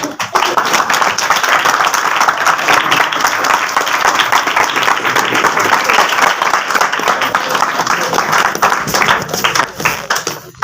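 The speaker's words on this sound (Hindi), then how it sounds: "अभी भी तालियां कम है, कईयों ने तालियां मारी थी" A congregation claps during a Sunday church service, a loud, dense, continuous wash of many hands that sustains for about ten seconds and tapers slightly at the end.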